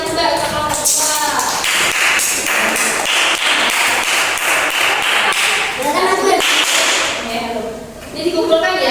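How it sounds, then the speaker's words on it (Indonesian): Classroom group clapping hands for a student group during a lesson, a dense, fairly loud burst of rapid claps that continues for several seconds with some voices mixed in. "Boleh tepuk tangan juga untuk kelompok dua"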